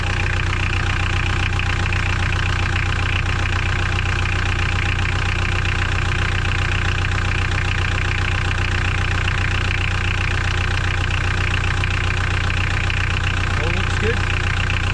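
A Mitsubishi L200 K74 pickup engine idles steadily after a fuel filter change, a loud, even drone with a faint knocking texture that holds unchanged from start to finish.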